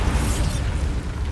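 A Confringo spell explosion in Hogwarts Legacy, a short deep blast with a rumbling low roar and a hiss that fades over about a second.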